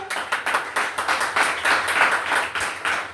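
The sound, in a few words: congregation clapping loudly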